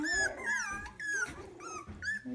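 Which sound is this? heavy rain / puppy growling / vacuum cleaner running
puppy growling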